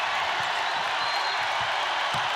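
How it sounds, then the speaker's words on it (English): A big arena crowd at a women's college basketball game, UCLA visiting Iowa, roars steadily as a dense, even wall of cheering and noise that holds from start to finish. "Crowd's getting loud."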